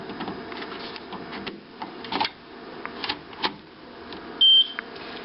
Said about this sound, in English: every time you successfully install an ink,